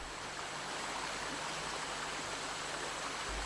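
A fast-flowing river in Costa Rica rushes in a steady broadband roar, continuous and moderately loud with no voices.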